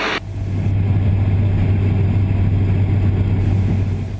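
Steady, loud engine drone of an Aeroprakt A32 Vixxen light aircraft held at 5200 RPM in flight, a continuous low hum with constant rumble and no speech.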